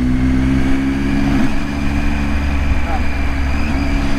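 A motorcycle engine runs steadily with a low, droning hum that stays even across the whole stretch, close by, while voices talk over it.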